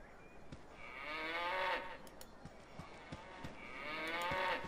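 Cows moo in the Baldur's Gate video game, two long, drawn-out lowing calls several seconds apart, fairly close and clear over a faint background with scattered soft clicks.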